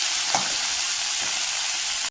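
Steady, dense sizzling of cauliflower frying in a hot pan, with a faint scrape near the start and no voices.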